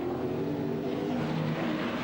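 A 1994 Bathurst touring car's exhaust note plays as a steady, moderately loud engine drone running through the clip, with no talking heard.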